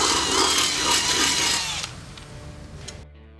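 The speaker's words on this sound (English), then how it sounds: "drill the appropriate holes" A power drill bores through the metal flange of an RV frame, a loud, steady whine for nearly two seconds that then drops away to a faint winding-down hum and brief rattles.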